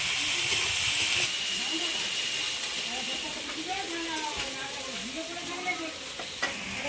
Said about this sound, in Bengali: পেঁয়াজটা একটু ভাজা হয়ে এসছে